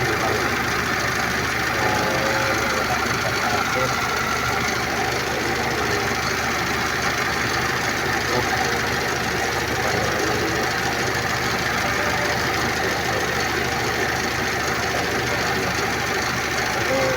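A Mazda Vantrend engine idles steadily for the whole stretch, with a constant, even mechanical hum and a faint knocking texture, not very loud and with no talking.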